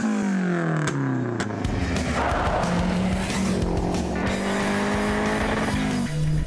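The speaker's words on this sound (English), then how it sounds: "our next car is the uber chic Renault 5 GT Turbo" A Renault 5 GT Turbo hot hatch revs hard while its tires squeal and skid continuously, the engine note rising and falling under the shrieking rubber.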